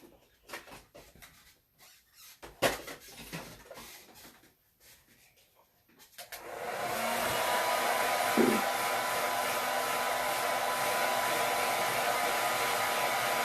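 After a few quiet handling knocks and clicks, a craft dryer switches on at about six seconds to dry a paste layer in a craft project, then blows with a loud, steady, close whoosh to the end.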